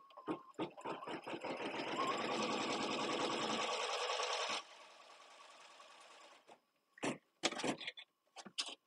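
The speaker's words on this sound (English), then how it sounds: "I'd pull this down snug and let the machine tack it in place" An embroidery machine tacks zipper pouch fabric in place with a steady, fast stitching chatter that runs for several seconds, drops to a lighter hum, and ends in a few sharp clicks.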